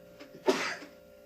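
A single sharp sneeze during a podcast-style conversation, a sudden loud burst that fades over about half a second, close to the microphone with a quiet room around it.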